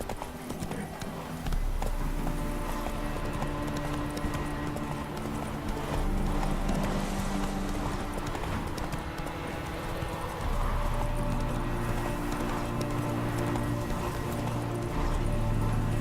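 Roach the horse galloping in The Witcher 3, rhythmic clip-clop hoofbeats pounding steadily and close throughout, with a low rumbling game backdrop and no speech.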